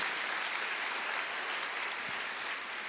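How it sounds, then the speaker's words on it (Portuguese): Steady applause from a church congregation fills the space, dense and even from start to finish with no voices on top. "aplauda o Senhor"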